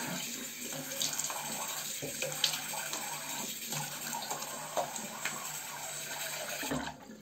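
Water from a tap runs steadily as a Merkur Progress safety razor is rinsed under it, a close, continuous splashing hiss that stops abruptly at the end.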